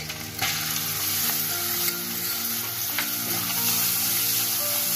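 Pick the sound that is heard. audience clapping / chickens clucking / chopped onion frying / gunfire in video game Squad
chopped onion frying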